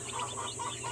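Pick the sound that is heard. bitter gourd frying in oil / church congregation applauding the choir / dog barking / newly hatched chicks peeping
newly hatched chicks peeping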